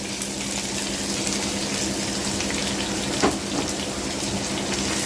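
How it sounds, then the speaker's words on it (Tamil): Three large onions hit hot oil in a pan for rice adai, producing a dense, continuous sizzling hiss at close range, steady and loud throughout, with no voices. "இப்போ நான் நல்லா 3 பெரிய வெங்காயம் போடுறேன்"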